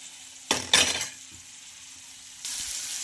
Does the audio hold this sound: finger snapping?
no